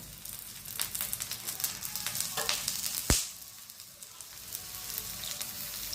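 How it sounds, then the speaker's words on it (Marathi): Pumpkin thalipeeth frying on low heat in a pan with oil drizzled around it, giving a steady close crackling sizzle throughout, with one sharp tap near the middle. "छान असं थालीपीठ भाजून घ्यायचं. आजूबाजूने या होलाईमध्ये तेल टाकायचं असं."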